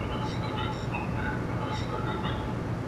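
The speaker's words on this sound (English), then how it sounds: "Why does it sound like we're in the subway?" Subway-like train ambience in the video game Killer7: a constant low rumbling drone with faint metallic tones drifting above, steady and enclosed.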